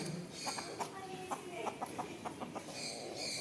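Chickens at a bird park cluck in short, scattered calls close by, with faint background noise and no clear talk.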